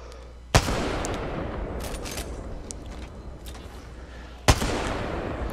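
Two loud, sharp sniper rifle shots from a Kraber in a video game crack out about four seconds apart, each followed by a brief decaying tail, over a busy background of game noise.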